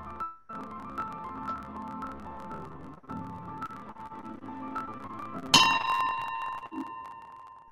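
A bell is struck once to open a meeting, giving a bright clang that rings out and slowly decays after a stretch of low background murmur.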